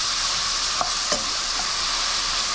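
A pan sautés steadily for a cornmeal dish cooked in coconut milk, giving a constant close frying hiss with a couple of soft stirring knocks and no talking.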